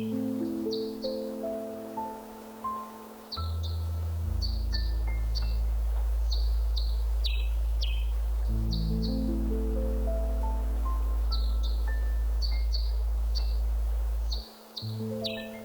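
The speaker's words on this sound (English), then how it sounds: "Birds singing softly in the distance." Birds chirp and sing in short repeated phrases in a forest, layered over a steady low drone and rustling.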